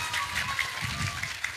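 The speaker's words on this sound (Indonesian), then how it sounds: "Tepuk tangan untuk MC aja." Applause from a religious lecture audience for the master of ceremonies, a steady wash of clapping with a faint tone running through it and murmuring voices underneath.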